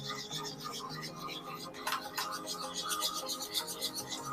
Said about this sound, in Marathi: आता आपण हे दोन्ही जिन्नस चांगले मिक्स करून घेऊया।